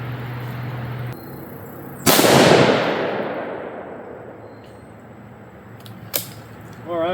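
A single loud, sharp crack from a .223 Remington AR rifle at an outdoor accuracy-testing range, followed by a long rolling decay. A smaller sharp report comes a few seconds later.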